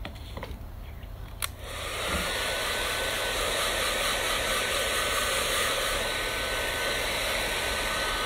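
A hair dryer blows after a shower: brief handling clicks, then the motor starts and settles into a loud, steady whooshing roar held close for several seconds.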